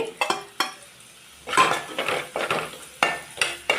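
Onions and green chillies sauté with turmeric and pepper powder, giving a soft sizzle broken by repeated spoon strokes and scrapes against the pan in uneven bursts.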